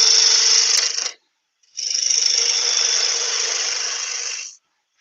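A wooden fruit shape being cut with a gouge on a wood lathe, two sustained hissing cutting passes, the first about a second long and the second about three seconds, close and loud with a short silent gap between.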